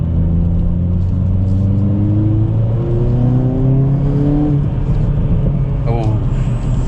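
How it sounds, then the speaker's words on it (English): A 2022 Hyundai Kona N engine revs loudly and close, its pitch climbing and dropping repeatedly on downshifts, with a brief squeal near the end. "downshifts are the best bit of this car"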